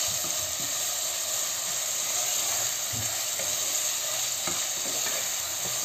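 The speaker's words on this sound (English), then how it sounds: "I'm just going to wait for these onions to go soft in the pan" Chopped onions sizzle softly in a hot pan, a steady close hiss with occasional stirring scrapes, as they soften with salt for a bottle gourd and prawn dish.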